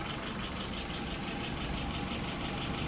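Car engine idling with the choke wide open, a steady mid-pitched hum and low rumble, even and continuous at close range with no voices.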